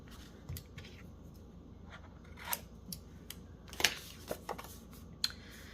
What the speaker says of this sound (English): I think I'll cut the top part of it like a tag.